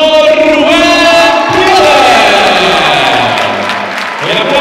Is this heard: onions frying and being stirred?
no